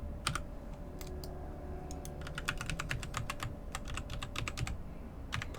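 Computer keyboard keys clatter in quick irregular bursts of light clicks with brief pauses, close but soft over a steady low hum during a Tormented Souls gaming session.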